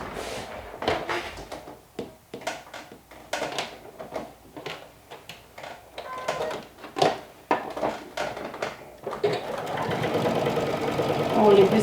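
A sewing machine top-stitches fabric nearby in short, uneven bursts of rapid mechanical chatter separated by brief pauses, then settles into a louder, steadier run toward the end.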